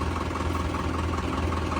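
A tractor hitched to a trolley idles in a steady, low, rumbling drone. The sound is moderately loud, constant and unbroken, with no talking.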